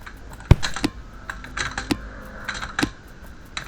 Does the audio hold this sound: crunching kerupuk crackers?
no